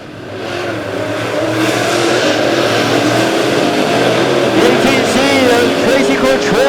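Late model race cars roar around a track in a continuous loud, dense engine drone during a feature race, with the pitch sweeping as the cars pass and an announcer talking over the noise.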